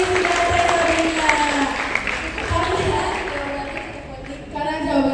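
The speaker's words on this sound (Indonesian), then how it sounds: "beri tepuk tangan yang meriah dulu semuanya untuk Teh Visi dan Teh Sabrina." A seminar audience applauds two speakers, a sustained crowd clapping that runs throughout, partly mixed with talking and voices over a sound system.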